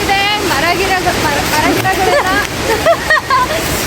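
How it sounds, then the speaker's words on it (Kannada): A forest waterfall gives a steady, loud rush of flowing water throughout, with people talking over it. "ವಾಟರ್ ಫಾಲ್ಸ್ದು ನೀರು ಹೋಗ್ತಾ ಇರೋದು"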